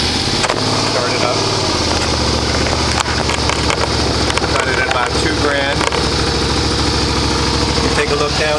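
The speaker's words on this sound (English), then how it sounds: "turn the bike on and let it warm up" A Suzuki SV650 motorcycle engine idles steadily while warming up, a loud, constant mechanical rumble that fills the whole stretch with little change.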